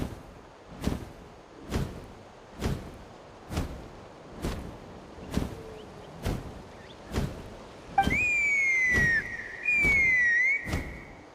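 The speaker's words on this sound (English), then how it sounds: "That sounded like a whistle." A whistle sounds in Genshin Impact during a Natlan tribal quest: a thin, sliding, high tone held for a few seconds, following a steady series of regular soft thumps spaced about a second apart.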